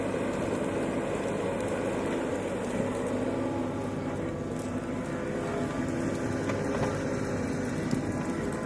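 A Kubota KX91-3 Super Series mini excavator's three-cylinder diesel engine runs steadily at a constant, droning pitch for the whole stretch, close and continuous, with no talk over it.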